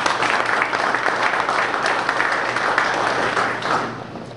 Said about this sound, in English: let's give Adam a great round of applause